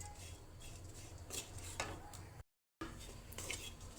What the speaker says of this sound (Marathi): त्याच्यामध्ये आपण खिसलेलं सुकं खोबरं घेणार आहोत. खोबरं आपण आधी भाजून घेऊया.